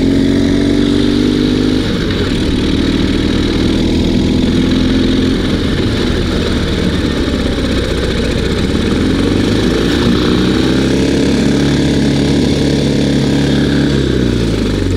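A Ural (Dnepr) motorcycle engine, fresh from a carburetor change and tuning, runs loud and close in a steady rough drone, its revs slowly rising and falling while riding, with no voices.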